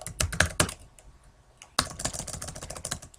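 Keys clatter on a computer keyboard in quick bursts of typing, a short pause, then another run of taps, close and fairly quiet with no talking.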